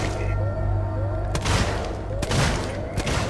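Gunfire in the video game Alien: Isolation, several loud sharp shots in quick bursts with booming tails, mixed with a voice shouting over the action.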